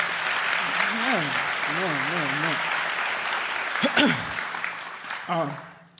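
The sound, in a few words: audience clapping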